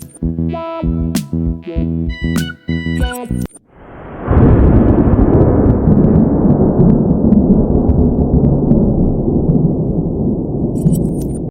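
AI-generated stormy sky with lightning: after a few seconds of electronic musical notes, a sudden loud thunderous rumble bursts in and rolls on continuously, slowly fading, with no speech.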